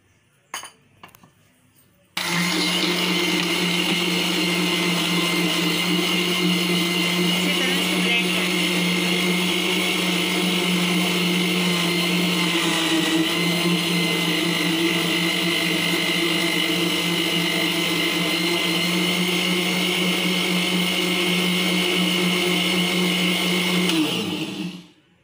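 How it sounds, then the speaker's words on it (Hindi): A kitchen blender whirs steadily for over twenty seconds, blending a mango mint cooler made with mint, roasted cumin, black salt and water, after a few brief clicks, then winds down at the end. "अब हम इसे ब्लेंडर में ब्लेंड करेंगे।"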